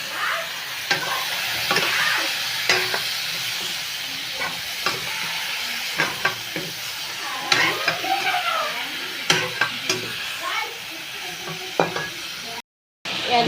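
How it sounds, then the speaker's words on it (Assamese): Chicken meat fries in a pan with a constant sizzling hiss, punctuated by repeated scraping and clacking strokes as it is stirred at an irregular rhythm, with no talking. "মাংসটো দি আধা ঘণ্টা ভাজিম"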